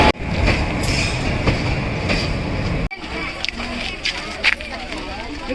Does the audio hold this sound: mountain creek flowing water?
no